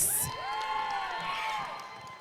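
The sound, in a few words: robotics team crowd cheering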